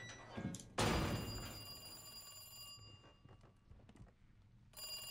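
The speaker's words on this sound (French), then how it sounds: "Genre le téléphone sonne," A telephone rings with a bright, repeating electronic tone inside a Resident Evil 2 remake game scene, rising sharply after a soft start and continuing steadily under faint ambient game sounds.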